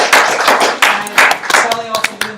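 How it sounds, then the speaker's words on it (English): An audience in a lecture hall claps through a round of applause at an intro talk, close and loud, with hand claps in uneven bursts and some taps near the end. "So everybody give Kelly a great round of applause."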